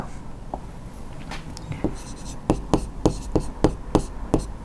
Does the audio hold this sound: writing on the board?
yes